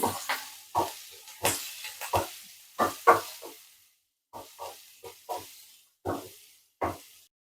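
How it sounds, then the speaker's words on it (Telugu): Ginger, garlic, green chilli, onion and curry leaves sauté in hot oil for a Chinese-style pasta, giving a series of short, sharp sizzling bursts as the pan is stirred, fairly close and with no talking. "ఆయిల్ హీట్ ఎక్కింది దీంట్లో మనం అల్లం వెల్లుల్లిపాయ ముక్కలు పచ్చిమిర్చి ఆనియన్ కరివేపాకు వేసేసుకున్నాం ఫస్ట్ సాటే చేద్దాము"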